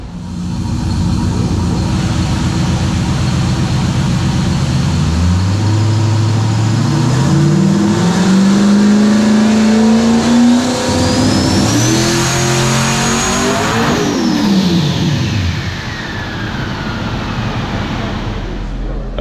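A boosted shop truck engine on a dyno, running with a crank trigger fault, revs loud and steady, rising through a long climbing pull to a peak near the end, then dropping off as the throttle is released.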